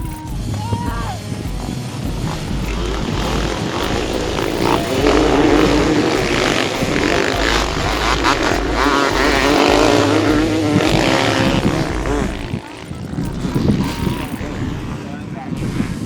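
Motocross motorcycles race at a track in Çatalca, Türkiye, their engines roaring and droning continuously near the microphone, with rising and falling revs and wind buffeting throughout.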